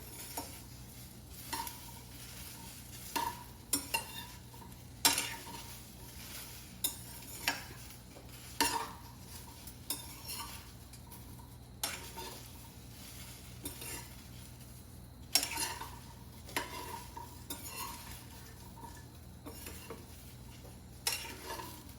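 Okra dry roasted with cumin, carom seeds and onion in a pan, stirred with a spatula in repeated scraping strokes every second or two over a low steady sizzle, no talking.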